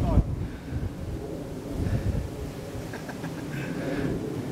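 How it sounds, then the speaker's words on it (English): Wind buffets the microphone in a steady low rumble during urban downhill mountain biking, swelling and easing, with faint scattered higher tones above it. "it's windy as well"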